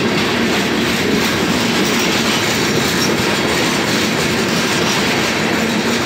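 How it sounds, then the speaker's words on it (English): Long CSX freight train rolling past on the track, a loud steady roar of wheels and rail noise with faint clickety-clack, continuous and close throughout with no talking. "so this looks like a big, long train"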